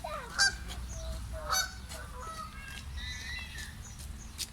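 Several loud goose honks ring out in bursts over steady low background rumble at a Bursa zoo, with ducks, cormorants and other birds calling faintly in between.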